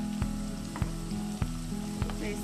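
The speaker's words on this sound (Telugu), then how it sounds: "వేసుకునేసి బాగా ఫ్రై చేసుకోవాలి." Ginger garlic paste fries in a pan for a Tamil Nadu style fish curry, a steady soft sizzle with a low hum under it and four sharp spoon knocks against the pan.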